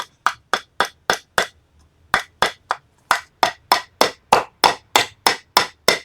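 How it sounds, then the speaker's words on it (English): Rapid series of sharp metallic taps from the small hammer head on a TLONER ARES 12P stainless steel pocket multitool, about eighteen crisp strikes in a steady rhythm with one brief pause, close and loud. "Taking the little hammer,"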